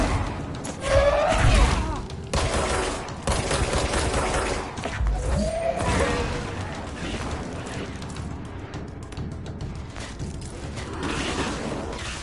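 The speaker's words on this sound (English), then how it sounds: "some of them shoot shit at you" Enemy gunfire and combat noise in the video game Control, with dense mechanical crackling, thumps and creaking sounds over a constant rumbling bed; moderately loud, no clear speech.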